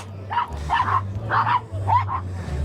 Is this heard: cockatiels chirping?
no